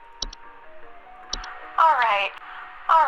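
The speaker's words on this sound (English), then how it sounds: "whistling fungi sounds like this." Whistling fungi recording in the Home Safety Hotline video game: sharp paired clicks, then warbling, sliding whistle-like tones in two short bursts over a faint background drone.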